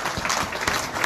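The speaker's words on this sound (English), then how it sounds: "Can we give RSA a huge round of applause for their commitment" An audience at a football club's player of the season awards gives a short burst of dense, steady applause at moderate volume.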